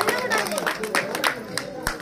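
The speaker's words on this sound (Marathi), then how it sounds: "तुम्ही जर टाळ्या वाजवा जोरात" Audience applause at a children's magic show, a brief burst of scattered clapping with crowd noise, heard alongside ongoing talk.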